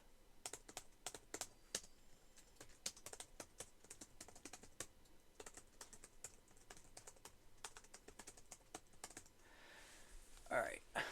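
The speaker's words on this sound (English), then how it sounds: "Now this is what you're going to type." Fingers type steadily on a computer keyboard while a Raspberry Pi 5 is set up with Linux, producing a quiet, close, continuous patter of individual keystrokes with occasional short pauses.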